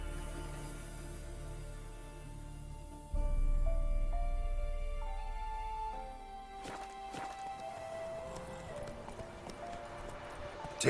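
In The Witcher 3 on Switch, the horse Roach moves at a steady hoofbeat clip-clop over a music score, the hooves growing busier and more broken in the second half.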